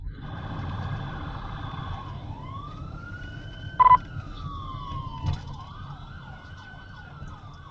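Sirens of several police patrol cars in Lonoke County, Arkansas, wail and rise and fall at a moderate distance, with a few short sharp blips and a low traffic rumble underneath.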